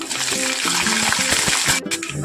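Mustard seeds, fenugreek and dried red chillies sizzle in hot oil for a buttermilk curry, a loud, steady frying hiss that runs continuously with no talking.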